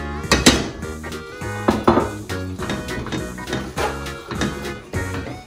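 Gingerbread dough being mixed in a bowl, with repeated loud clacks and scrapes of a utensil against the bowl in an uneven rhythm, close up with no speech over it.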